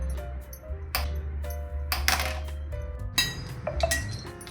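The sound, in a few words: placing a wok on the stove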